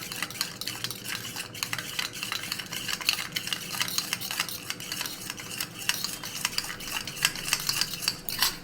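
Spices with coriander powder and a splash of water are stirred in a pan for a potol-in-yogurt dish, giving a steady scraping and clinking of a spoon against metal throughout, fairly close, with no voices.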